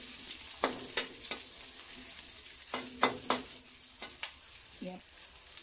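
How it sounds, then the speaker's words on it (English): Sliced onion dropped into a hot pan for chicken mechado, giving a soft, fairly faint sizzle broken by several sharp clinks and scrapes of a utensil against the pan, with no voices. "ilalagay naman natin ang sibuyas"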